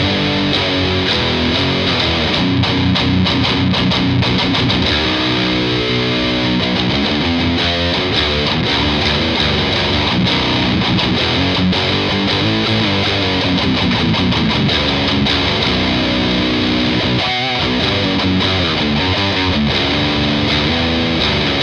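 Heavily distorted metal guitar through a Fortin Blade Whitechapel signature pedal plays loud, dense chugging riffs with tight palm-muted rhythms and sustained chords, continuous and alone without talk.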